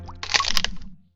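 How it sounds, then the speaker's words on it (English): Fork striking fruit in the BattleFruit video game, a short squishy cracking impact with a springy plop, bright and close, fading out after about a second. "Exclusive uses fork and hits fruit at E2."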